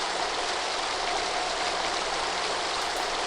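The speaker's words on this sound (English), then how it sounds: "Water is pouring through that hole at a tremendous rate." Water rushing hard through a hole in the adventure game The Dig, a steady broadband torrent that stays loud and constant for the whole stretch with no voices over it.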